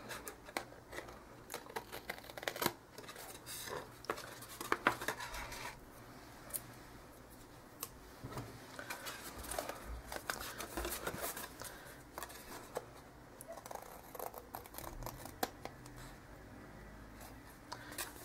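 Paper for a Dakota accordion-style birthday card is cut on a trimmer in a quiet room, with soft, irregular rasping and sliding strokes and light taps repeating at close range.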